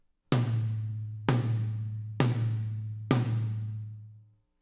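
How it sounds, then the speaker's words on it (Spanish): A rack tom on a drum kit is struck four times at an even pace, each loud, close hit ringing out with a deep, sustained tone before the next, with no one talking. "Este de acá se llama tom-tom de aire."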